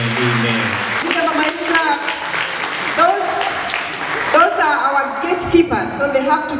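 Hand clapping from a church audience at an appreciation gathering sits under singing and voices, uneven and lively, rising and falling through the clip.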